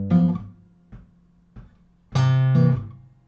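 An electric guitar plays a walking-bass pattern, with a few low single root notes followed by a fuller strummed chord near the end, heard clearly and alone.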